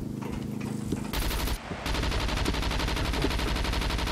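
Gunfire in the survival game SCUM: one shot, then rapid automatic bursts that rattle on loudly with a short pause partway through, no voices.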